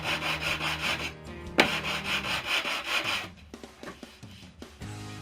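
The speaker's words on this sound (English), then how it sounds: "I'll sand this lot off" Rhythmic hand sanding rubs across a level wooden surface of pine in repeated back-and-forth strokes, close and clear, with a pause then shorter scrubbing strokes near the end, no talk.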